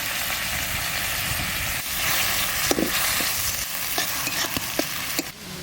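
Snails and pointed gourd tip into a curry already frying in a village kitchen, raising a steady close sizzle with stirring scrapes and a few sharp clinks over the hiss.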